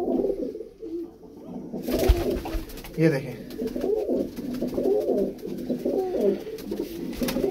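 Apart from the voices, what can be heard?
pigeons cooing, pigeons for sale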